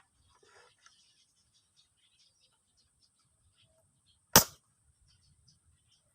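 Homemade pump-type bullpup airgun firing once, a single sharp, close report standing out against near silence, with faint clicks and distant birds around it.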